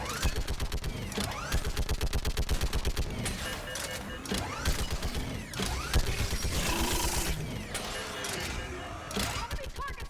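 Rapid automatic weapon fire in the Mass Effect 3 battle on Thessia, dense rattling bursts with mechanical clatter and echoing shots, mixed under shouted combat voices and game effects.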